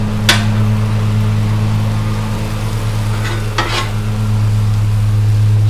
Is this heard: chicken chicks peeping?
no